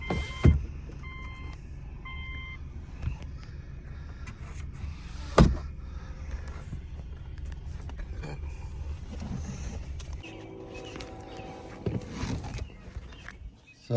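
A car's sunroof motor hums steadily, with a couple of sharp clicks or knocks along the way and a shift in the whine near the end as the sunroof finishes moving.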